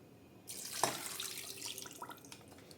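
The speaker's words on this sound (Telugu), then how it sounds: "ఒక 2 గ్లాసెస్ వాటర్ అయితే యాడ్ చేసుకున్నాను నేను." Water from a glass poured into a pot of mutton mandi, a steady splashing pour starting abruptly and continuing for a couple of seconds, close and moderately loud.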